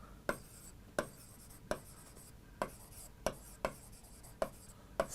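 Chalk or marker strokes tapping and scraping on a classroom board, about eight sharp marks at a steady pace, fairly quiet with no talk.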